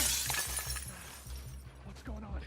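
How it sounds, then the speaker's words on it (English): A glass object shatters in The Last of Us Part 2, a loud crash with scattering tinkles. It is heard under a steady game soundscape with rhythmic low thumps and a voice. "you can break glass objects in the environment to create noise instead"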